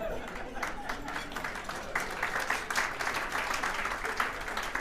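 Audience applause for Congressman Ted Lieu at a State of the Region event, a steady wash of mid-level clapping from a crowd that carries through the whole stretch with slight swells.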